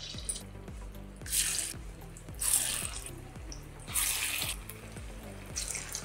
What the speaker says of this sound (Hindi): ये देखिए, कढ़ाई मेरा गर्म हो गया, इसमें हम डालेंगे रिफाइंड ऑयल। इसे हम एक एक करके डाल देंगे।